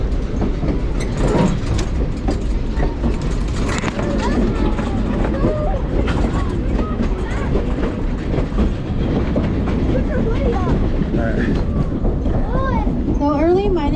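Nevada Northern Railway train rolling along the tracks in Ely, Nevada, with a steady clickety-clack and continuous rumble of rail cars swaying side to side, while people talk in the background throughout.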